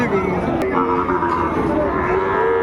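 Low cattle moos carry through a noisy livestock area, overlapping with murmuring voices and steady background bustle.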